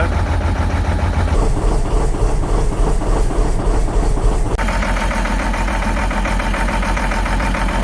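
Cold diesel engine on winter harvest machinery idling roughly at twenty below with a suspected fuel problem, a steady loud low rumble with uneven knocking pulses that shift in tone partway through.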